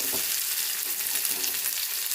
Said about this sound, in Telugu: మొత్తం వేసి కొంచెం సేపు ఫ్రై చేయాలి